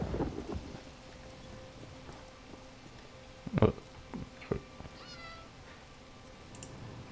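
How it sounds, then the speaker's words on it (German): A cat meows a few times in The Elder Scrolls Online game audio, brief and fairly faint against a low rumbling background. "Warum ist da eine Katze im Bett?"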